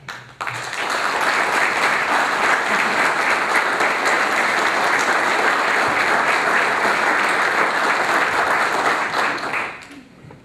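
An audience at a chamber of commerce annual event applauds a man asked to stand, a loud, even roar of many hands clapping that starts suddenly, holds for about nine seconds and tapers off.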